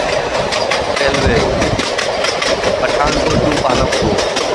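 Kangra Valley Railway train running from Pathankot to Palampur, loud and close, with a rumbling engine and rapid rhythmic clickety-clack of wheels over rail joints filling the whole stretch.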